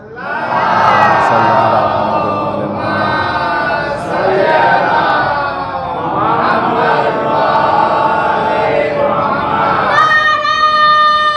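Many voices of a Muharram majlis congregation shout salawat together in loud, sustained unison, surging in two or three waves before a single voice rises near the end.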